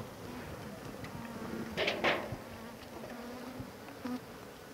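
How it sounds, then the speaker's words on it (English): Honey bees swarm in a continuous buzzing drone as they are shaken from a catcher box into a new top bar hive, with a few knocks and thumps from the box rising briefly above the hum. "shake it to allow the bees enter"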